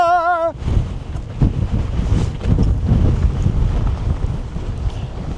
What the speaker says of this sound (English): The wind is blowing me all over the freaking place.